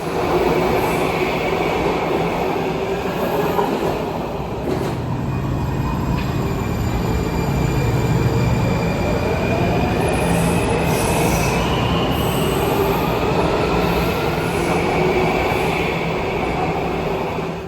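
A Washington DC metro train rolls past with loud, sustained metallic wheel squeals rising and bending over a heavy rumble, continuous for the whole stretch.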